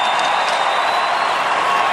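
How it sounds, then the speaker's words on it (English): An arena crowd at an NHL hockey game between the Islanders and Red Wings cheers and claps in a steady, distant roar as a player returns to the ice. "you can hear the cheer as Dylan Larkin returns to the ice"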